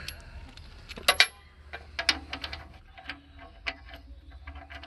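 A ratchet clicking in short bursts as a bolt is turned to rotate an engine during a cam install, with sharp metallic ticks scattered among quieter mechanical handling sounds close by.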